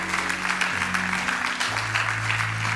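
A church congregation applauds steadily, a dense continuous clatter of many hands filling the room, with a low held organ or keyboard tone underneath.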